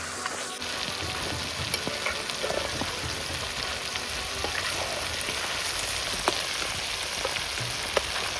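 Quail deep-frying in hot oil in a Kerala home kitchen: a dense, steady sizzle and crackle with no voices, holding at an even level throughout.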